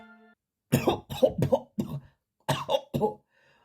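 A voice imitates a cough, a series of short, sharp coughs in two bursts, close and fairly loud, separated by brief silence.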